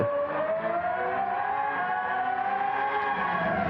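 A race car engine in Gran Turismo 7 during an online Nation's Cup race, a loud, steady, high whine that climbs slightly in pitch and holds continuously with no voices.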